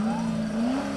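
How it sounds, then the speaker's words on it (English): Corvette Club cars at a Christmas parade in Destin revving their engines, a loud, close V8 drone holding a steady pitch before rising slightly toward the end. "Revving the engines"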